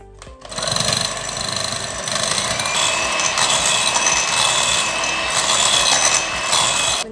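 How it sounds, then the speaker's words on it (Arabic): An electric mixer beats lemon cake batter as milk is gradually poured in, a loud, steady mechanical whir with a rapid rattling rhythm that starts abruptly and runs without pause. "غنضيف الحليب حتى هو بالتدريج مع التخلاط."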